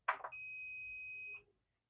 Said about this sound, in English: if we want to test the continuity of these earth connections from this point to this other point, you find that there is that beeping sound.